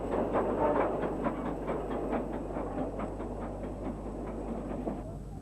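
An LMS Jubilee class steam locomotive passes at moderate distance, its regular chuffing beats and rolling rumble holding steady for several seconds on an archive British steam recording.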